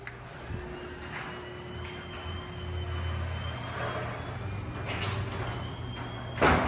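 A quiet Chamberlain belt-drive garage door opener runs the door in a garage. It gives a steady low motor hum with a faint whine for several seconds, then a brief louder clunk near the end.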